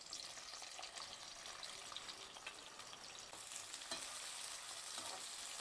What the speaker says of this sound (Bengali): বেরেস্তা ভাজার জন্য আমি পেঁয়াজগুলো কিন্তু এবার দিয়ে দেবো।